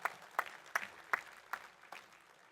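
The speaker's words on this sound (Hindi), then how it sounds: "आपने तो आपके पूर्वजों के लिए ताली बजाई" Scattered audience clapping to honour ancestors at a talk on culture and identity, heard as about six distinct sharp bursts over a soft crowd wash, fairly faint and distant.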